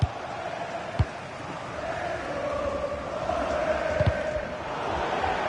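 A stadium crowd in the FC 26 football video game roars as a constant, dense rumble of massed voices, with a couple of sharp thuds standing out briefly.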